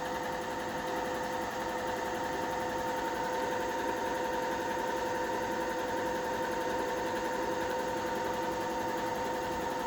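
A sewing machine runs steadily and continuously for about ten seconds, a constant mechanical hum with a rapid, even vibration that never pauses, heard alone with no talking.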